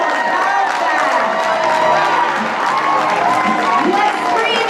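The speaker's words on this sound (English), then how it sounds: "One more big round of applause" A large crowd at a county swearing-in ceremony applauds and cheers steadily for newly elected officials and judges, with whoops and shouts over continuous clapping, loud and sustained throughout.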